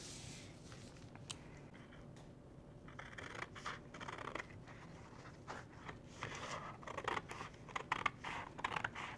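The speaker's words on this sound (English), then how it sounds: "then just take your scissors" Repeated crisp snips of scissors cutting through paper, close by, in an uneven rhythm of short strokes with faint rustling between them.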